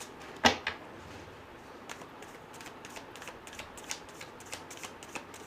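A deck of tarot cards is shuffled close up, opening with a sharp flutter of riffled cards and followed by soft, scattered taps and slides as the cards are handled quietly.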